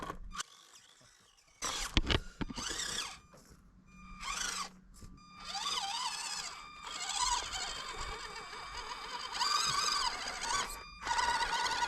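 An Axial 1:24 scale JLU RC car with a tire stuck, its small electric motor whining in repeated short bursts with pauses between them, close by and fairly quiet.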